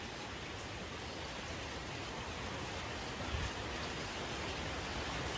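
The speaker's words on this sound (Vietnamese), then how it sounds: "ơi trời mưa quá" Heavy rain pours in a forest, a dense, steady hiss that stays loud and even throughout without a break.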